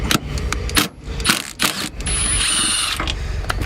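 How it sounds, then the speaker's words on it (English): Metallic clicks and clatter as bolts are undone from the stock seat of a Nissan 350Z, sharp loud ratchet-like bursts with a steady mechanical whir in between, close up and without talk. "right now we're gonna unbolt the stock seat"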